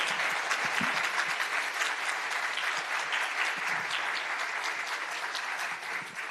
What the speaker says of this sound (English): So if we could please give a round of applause.